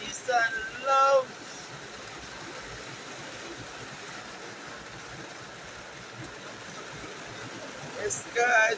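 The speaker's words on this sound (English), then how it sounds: "Yes, guys, it's a rainy, rainy day." Steady rain on a rainy day in Jamaica, heard as an even, close hiss of falling water that holds throughout, with brief bursts of a person talking near the start and again near the end.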